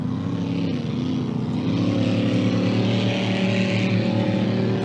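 Racing boat engines at a classic boat race roar in a continuous, heavy drone that rises slightly in pitch, loud and steady with no talking.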